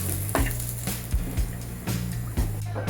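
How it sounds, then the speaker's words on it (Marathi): Grated coconut sizzles in hot oil in a pan, a steady close frying crackle with occasional stirring scrapes and a low background hum throughout. "आता आपण खोबरं जरा किसून घेतलं होतं, तेही पण कच्चेपणा जाऊपर्यंत जरा परतून घेऊया"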